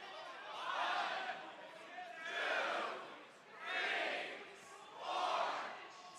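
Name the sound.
crowd cheering at Pokémon TCG regional championship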